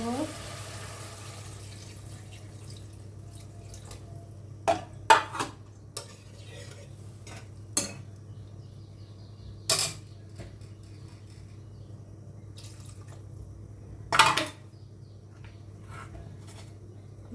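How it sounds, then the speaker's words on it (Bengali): A cooking pan of fried vegetable stems with spices receives water, giving a soft hiss and wet bubbling under scattered sharp clinks of a spoon against the pan; no speech is heard. "এখন আমি জলের পানি দিয়ে দেবো"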